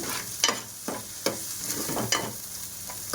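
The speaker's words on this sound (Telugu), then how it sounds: "వెజిటేబుల్స్ అన్నీ పక్కకు జరిపి ఎగ్ ఫ్రై చేస్తున్నాను" An egg fries in a hot pan with the vegetables pushed to one side, giving a steady sizzle broken by a few sharp scraping stirs of a spatula, close and moderately loud.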